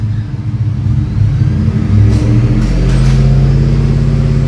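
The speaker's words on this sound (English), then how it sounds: "I'll give it a little throttle, let's see." A Ford F-150 fitted with a Roush Interchiller, its engine idling then revved with throttle, a loud close rumble that rises in pitch and holds a steady higher drone to the end, no voices.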